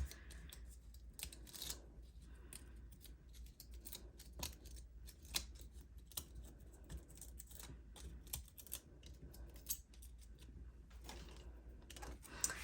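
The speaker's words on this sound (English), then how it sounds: "we're just gonna cut a long piece and stick it down the center" Scissors snip through a long strip of paper for a heat embossing craft card, a quiet series of rapid crisp cuts and clicks in close succession, heard alone without talking.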